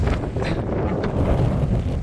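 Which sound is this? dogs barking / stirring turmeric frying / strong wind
strong wind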